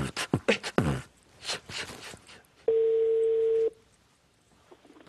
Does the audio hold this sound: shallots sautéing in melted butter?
no